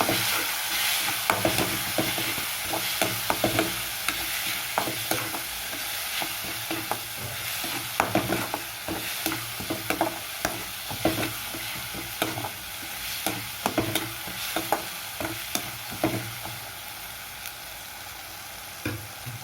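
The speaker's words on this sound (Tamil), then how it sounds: "கரம் மசாலா ஒரு அரைக்கரண்டி போட்டுக்கோங்க பச்சை வாசனை போடுறதுக்கு வரைக்கும் போட்டுக்கலாம்" Garam masala fries in a pan with a steady sizzle while a spoon scrapes and stirs in quick, repeated strokes, close and continuous, for egg fried rice, with no talking.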